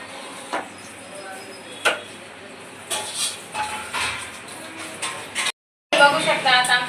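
Bean pods shelled by hand at home: sporadic crisp snaps and cracks, close up, scattered among quieter rustling. A voice talks over them, and the sound cuts out for a moment before resuming.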